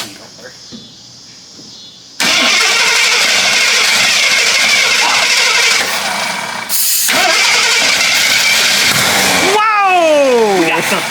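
An old Jeep that sat unused for 25 years cranks with quiet ticking, then bursts into a loud ragged start and runs hard at high revs. The engine cuts out briefly, catches again, and wavers as the revs sweep up and down.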